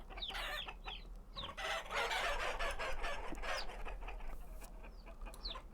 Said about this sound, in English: I'm sure the chickens need some more foods.